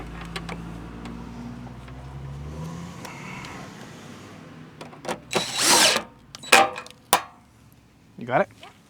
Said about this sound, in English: I actually drilled it out 3/8 and then used a step-up bit to get it a little bit bigger.